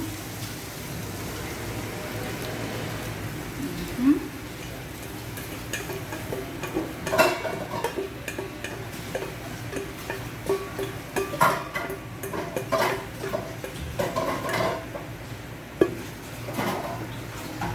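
Leftover viand cooking with beaten egg and onion leaves in a pan. A steady sizzle runs underneath scattered ticks and scrapes from stirring, at close range and moderate loudness.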